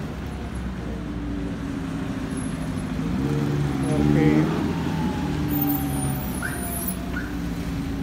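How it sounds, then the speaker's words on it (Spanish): Steady heavy traffic rumbles around a roundabout on Avenida Morelos in Zacapu marked with yellow metal speed bumps, with passing cars and buses swelling mid-clip and someone talking over it throughout. "Puede ser el lugar que tiene más tráfico aquí en Zacapu, tráfico pesado."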